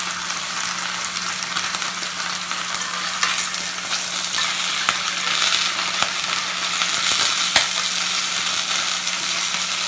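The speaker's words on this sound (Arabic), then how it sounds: "راح نزيد نقلب" Lamb shanks frying in a pan while being stirred, a steady close sizzle with scattered scraping clicks from the utensil, continuous and even throughout.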